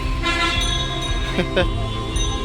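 A toy train at Amaravati park in Digha sounds a steady, harmonic horn toot that carries through the whole moment, with people talking in the background.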